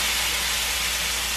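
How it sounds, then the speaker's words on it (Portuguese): A pork chop fries in a pan, giving a loud, steady sizzling hiss that fills the whole short clip without any voices. "Agora, ó, vou fritar a bisteca"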